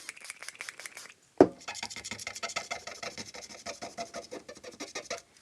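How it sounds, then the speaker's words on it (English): Rubbing and scrubbing on a Super Nintendo circuit board with an alcohol-soaked cotton swab: soft, rapid rasping strokes in a steady rhythm, close and quiet, after a single sharp knock near the start. "Some more work with the Q-tip and some alcohol."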